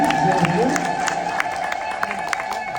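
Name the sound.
church congregation ululating in praise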